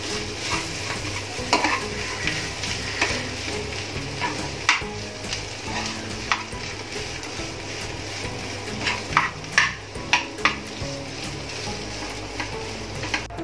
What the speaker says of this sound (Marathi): मीठ घालूया, चांगलं मिक्स करून घेऊ।